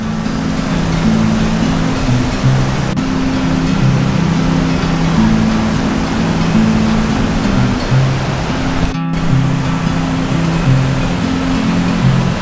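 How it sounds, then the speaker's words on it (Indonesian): A fast-flowing river rushing beneath a red bridge, a loud, steady wash of water noise throughout with a brief dropout near the end. "Di bawahnya itu ada sungai yang cukup deras ya."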